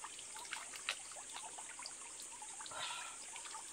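Crystal-clear mountain stream water trickles and flows along a trail on Sathuragiri hill, a soft continuous rushing with faint splashy ripples, gentle and fairly distant, with no voices.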